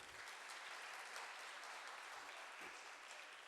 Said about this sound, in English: Big round of applause to him also.